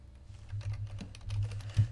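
Keys clatter on a computer keyboard in a quick burst of uneven taps, close and fairly soft, with a couple of louder strokes near the end.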